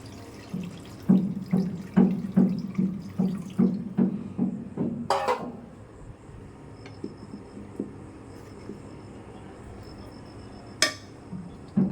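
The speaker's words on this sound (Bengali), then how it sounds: "এখন পরিমাণ মতো জল দিয়ে দেব।" Water poured into a pot of cooking pangas fish makes a rhythmic run of close glugs for about five seconds, then things settle into near quiet with a couple of sharp pot clinks.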